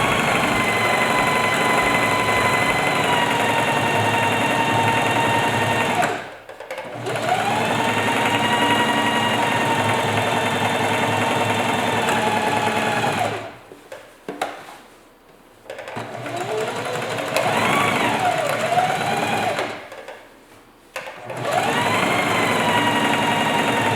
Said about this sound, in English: You'll have to pull a little bit to keep it flat as you sew